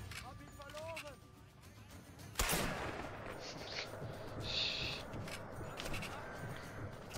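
Sniper rifle fire in Sniper Elite VR: one loud sharp shot bursts out midway, trailing into a rumbling echo, with faint distant gunfire and other game noise around it.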